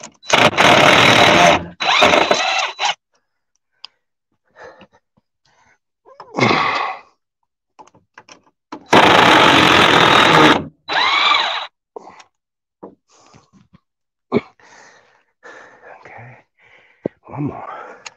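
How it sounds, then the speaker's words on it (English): A cordless screw gun backs screws out of wood while building a chicken coop, sounding in two long whirring bursts with shorter bursts between them. Quieter clicks and handling noises fill the gaps. "Get my screw gun. Take these screws out."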